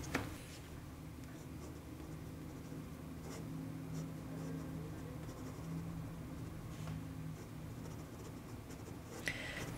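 Fountain pen with a flexible steel nib, an Ahab filled with Heart of Darkness ink, scratching across paper while drawing horses; a soft, steady close-up scritching with faint strokes and a couple of sharper ticks, no talking.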